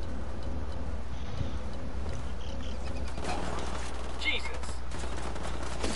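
Rapid bursts of video game gunfire crackle through a dense, steady mix of in-game noise, with shots clustering into fast volleys across the whole stretch while voices chatter faintly underneath.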